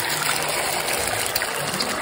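Batter poured into hot sunflower oil in a frying pan, giving a steady close hiss and sizzle that holds evenly throughout.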